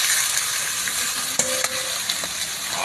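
Squid dropped into a hot pan for squid curry, with a steady loud sizzle and crackle filling the scene, a few sharp clinks of utensils stirring midway, no talking.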